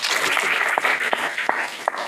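An audience at a French conference on cultivating water claps in answer to a show-of-applause vote, a busy rustling wash of hands with several distinct sharp claps near the end, fairly close and without voices.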